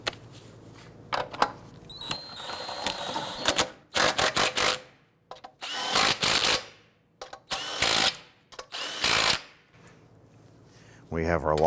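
Power tool snugging down lug nuts on an Infiniti G37 wheel, several short sharp rattling bursts with gaps between, close by over a quiet background.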